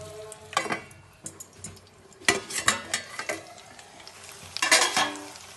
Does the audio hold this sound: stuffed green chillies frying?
yes